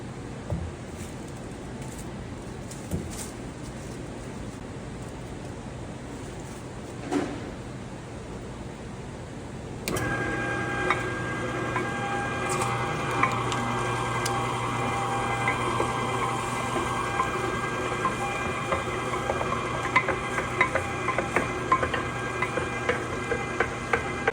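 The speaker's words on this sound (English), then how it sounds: "So we're gonna begin grinding the meat we trimmed off of this brisket." A meat grinder grinds brisket trimmings. Quiet room noise gives way abruptly to a steady motor whir with a constant hum and scattered small ticks, continuing close and even.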